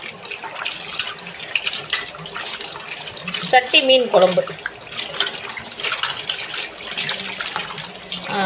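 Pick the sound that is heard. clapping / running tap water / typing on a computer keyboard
running tap water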